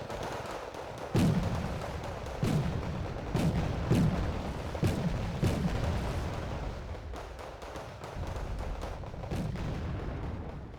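Abrams tanks firing fire support in the Wargame Red Dragon battlefield, a series of about seven heavy booming blasts spaced roughly a second or two apart, fairly loud over a continuous low rumble of battle noise.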